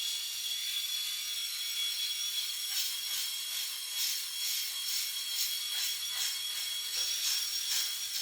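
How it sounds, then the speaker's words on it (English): A Pitbull Gold electric head shaver runs close and steady, giving a thin high whine with soft scraping pulses as it passes over the scalp. "This is the Pitbull Gold Shaver."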